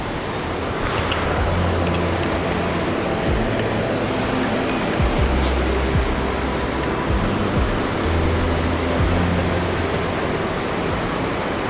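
Chaudière Falls in Canada gives off a steady, broad roar of rushing water, loud and unbroken, with faint thumps and traffic-like rumble mixed in.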